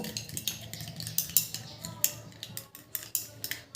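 A spoon scrapes and clinks rapidly around a small bowl while stirring glycerin into a besan gram-flour face pack, a brisk, close, uneven series of light taps and scrapes.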